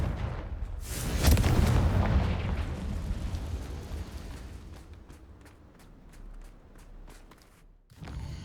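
Confringo blasting spell from the Hogwarts Legacy video game: a loud, booming explosion bursts out and rumbles for a couple of seconds, then fades into softer crackling debris and scattered pops before a final thud.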